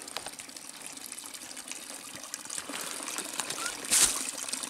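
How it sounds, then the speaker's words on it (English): Spring water flowing down an aqueduct in the woods along the Quehanna Trail, a steady soft rush and trickle close by, with one brief brighter splash near the end. "They got this awesome aqueduct deal set up from this springway up there."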